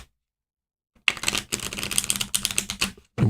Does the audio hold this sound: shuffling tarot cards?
yes